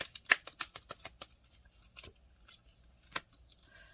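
Tarot cards drawn and handled, a quick flurry of soft papery flicks and snaps at first, then scattered lighter card slides, close and fairly quiet, without speech.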